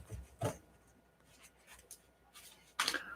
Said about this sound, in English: So sorry, I'm going to shuffle again.